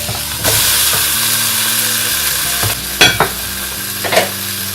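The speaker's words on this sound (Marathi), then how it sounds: "तुम्ही हे तुमच्या पॅनमध्ये तव्यावर सुद्धा करू शकता. वरून झाकण ठेवायचं नाहीये, पण फिश फ्राय सारखं फ्राय करून घ्यायचंय." Tandoori chicken fries in an open pan on a tawa with a continuous loud sizzle and hiss, broken by a few sharp clatters as the pieces are moved.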